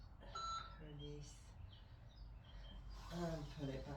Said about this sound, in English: Let me shut that timer off because we have finished.